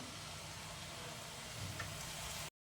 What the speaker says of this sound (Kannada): ಹಾಗಲಕಾಯಿ ಇಟ್ಕೊಂಡಿದ್ದೀನಿ ಈಗ ಸ್ವಲ್ಪ ಆಯಿಲ್ ಹಾಕ್ಕೊಂಡು ಫ್ರೈ ಮಾಡ್ಕೊತಾ ಇದ್ದೀನಿ